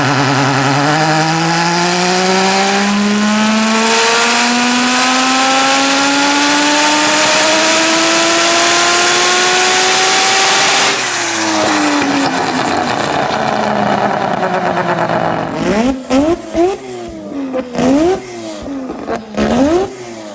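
A turbocharged three-rotor Mazda RX7 screams through a long full-throttle pull on a dyno, pitch climbing smoothly and loud before dropping off, followed by choppy blips and pops as the throttle snaps open and shut.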